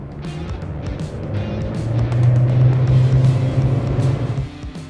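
A Suzuki outboard boat motor drones steadily under wind and water noise, a low hum that swells slightly midway before easing, in South Texas.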